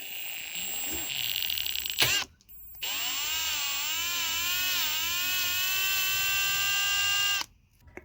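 A power drill whines as a cobalt bit bores through a stuck bolt, its pitch shifting under load, with a brief stop before drilling resumes steadily.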